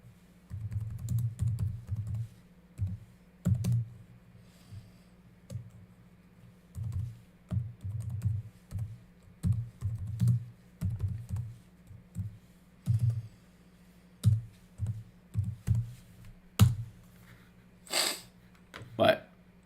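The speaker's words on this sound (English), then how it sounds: "Typing one-handed makes me feel like a boomer." Someone types one-handed on a computer keyboard, producing close, crisp key clicks in irregular bursts separated by short pauses over about twenty seconds.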